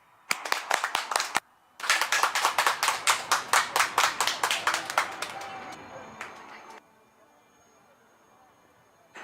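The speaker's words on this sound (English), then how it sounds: "Big round of applause to you, please." A large outdoor crowd at an Air Force Day flypast event on Marina Beach in Chennai applauds. Rhythmic, unison claps swell and then fade into scattered clapping and quiet.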